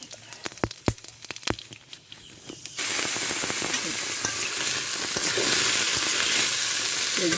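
Dried red chillies and nigella seeds dropped into hot oil: a few sharp clicks and pops, then a sudden loud, steady sizzle that swells and keeps crackling close up.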